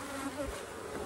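Honey bees drone steadily at an open hive during a mite check, a soft, even buzz with no voices over it.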